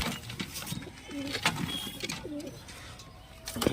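Cooing of a Murshidabadi pigeon, a ten-to-twelve-year-old bird held outdoors in sunlight: a few soft, low, rolling coos repeat near the microphone over faint background noise, with no talking.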